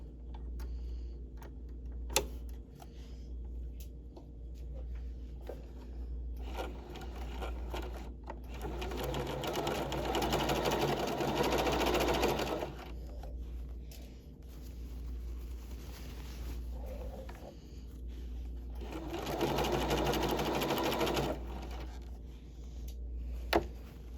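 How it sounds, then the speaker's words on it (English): A sewing machine fitted with a zipper foot stitches a hem on an all-in-one facing with lining, running in two long steady bursts separated by quieter pauses with faint ticking handling sounds. "I'm going to start by stitching at the hem 1/2 inch"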